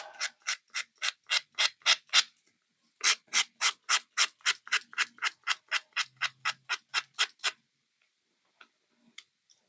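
A nail file rubbing the edges of tarot cards covered in contact paper, with about thirty quick, evenly spaced rasping strokes, a brief pause after the first group, then silence apart from a few faint taps.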